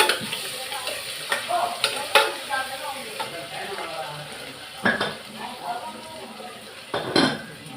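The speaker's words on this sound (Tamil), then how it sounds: "வெங்காயம் போட்டுக்கிறேன், கருவேப்பிலை போட்டுக்கிறேன், வதக்கிப்போம்." Onions and curry leaves sauté in a new pressure cooker, with a steady sizzle under irregular scrapes and clinks of a metal spoon stirring against the pot, close and moderately loud.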